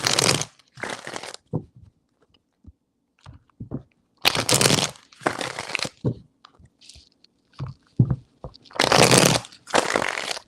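Tarot cards are shuffled in several bursts of crisp riffling and slapping, loud and close, separated by short pauses with small taps and handling sounds.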